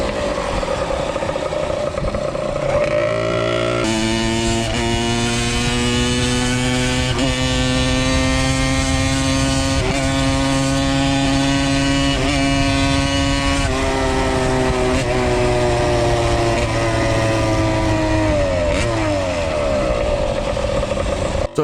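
Moped with a water-cooled AM6 engine riding up a gradual slope at about 40 to 50, a loud steady high engine whine held close for a long stretch, with pitch rising and falling as the throttle changes.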